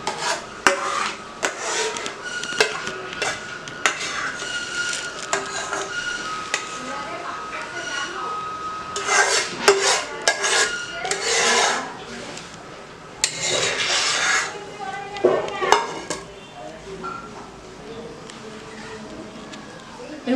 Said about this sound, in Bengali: এরকম করে হাতা দিয়ে ছড়িয়ে দিচ্ছি সব জায়গাতে